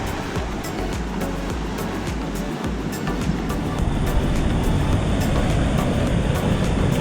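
Surf surges and splashes into a rocky tide pool at Laguna Beach in a continuous close wash of water that swells louder toward the end.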